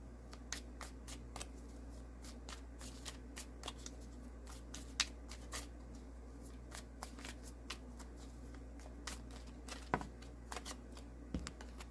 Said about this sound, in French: On brasse encore un petit peu.